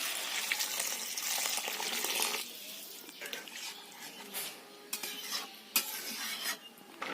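Kadhi bubbling in a pot on the stove, a steady soft hiss and simmer with scattered small pops and clinks, heard close and alone.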